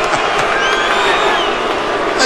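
A boxing arena crowd booing at a Bernard Hopkins versus Syd Vanderpool fight, a dense sustained roar of many voices with a voice talking over it.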